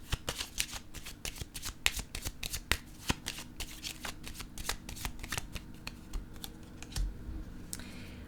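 Tarot cards are shuffled and laid down on a table, giving a quiet run of quick, soft flicks and taps in an irregular rhythm, close and faint, with no talking.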